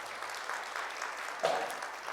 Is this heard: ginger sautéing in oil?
no